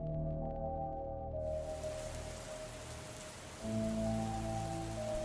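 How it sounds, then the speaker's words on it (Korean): Steady rain begins after a short pause and becomes a dense, even hiss, moderately loud under a low droning musical backdrop. "그 후로 며칠이 지나서 비가 내리기 시작했어"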